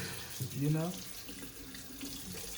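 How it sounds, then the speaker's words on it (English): A kitchen tap runs water into a sink with a steady hiss and splash, a brief gurgling swell near the start, and a soft voice in the background. "Water is rather relaxing, right?"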